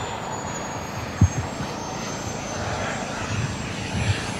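An F-18 fighter jet on final approach at an air show in Kentucky, a steady loud broadband engine roar that stays constant and fairly near throughout, with a faint high whine above it.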